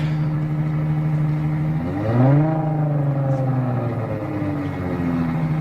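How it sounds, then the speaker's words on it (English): A race car engine at Pikes Peak revs hard, its pitch climbing sharply for a moment then holding at a higher steady drone, with no sense of the car pulling away, a possible gearbox problem. "The engine's revving, but it's going nowhere."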